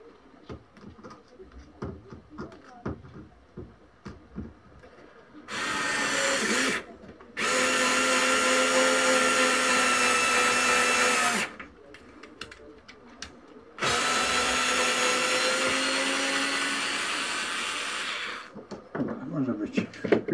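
Parkside PAS D5 small cordless screwdriver driving small screws, three whirring bursts of several seconds each separated by pauses, close and loud, with handling clicks and knocks before and after.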